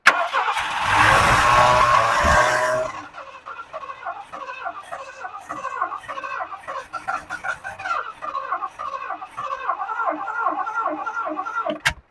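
A 1979 Lincoln Continental left sitting for 32 years cranks with bone-dry cylinders and a struggling battery. A loud, rough burst comes first, then a long run of steady, rhythmic chugging as the starter keeps turning the engine over without it catching.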